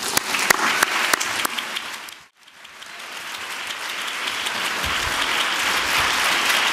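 An audience at Skagit Valley College's GlobalFest 2013 applauds to welcome keynote speaker Dr. Raj Patel. The clapping is loud and steady, dips briefly, then swells back to full strength.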